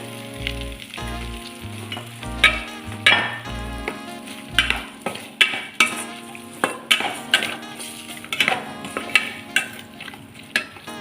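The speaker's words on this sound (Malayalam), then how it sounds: "അടുത്തതായി പൊട്ടാറ്റോയും ക്യാരറ്റും കൂടെ ചേർത്തിട്ട് കൊടുക്കുക." Potatoes and carrots sautéing with masala in a pan for chicken stew: a loud, close sizzle with repeated spatula scrapes and stirring knocks, and no one talking.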